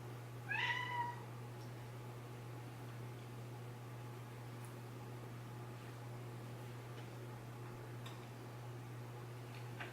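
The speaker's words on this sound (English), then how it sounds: "The cat decided to come into the room." Indoors, a cat gives a single short meow near the start, close and fairly clear, followed by quiet room tone with a steady low hum and a few faint ticks.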